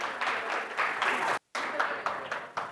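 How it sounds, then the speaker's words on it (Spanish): Applause for a group of presenters at a medical lecture, steady dense clapping filling the room with a brief gap in the middle before it resumes. "Denle un aplauso al grupo 1"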